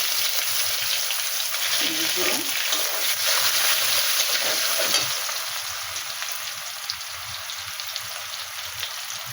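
Chilli, whole cumin and onion frying in oil, a dense close sizzle that surges loudly for the first half and then settles into a softer steady hiss.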